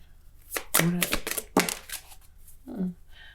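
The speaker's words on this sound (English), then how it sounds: "I'm going to keep shuffling." Tarot cards being shuffled during a card reading, giving a few quick papery riffles and soft flicks, close up and fairly clear, with a voice speaking over parts of it.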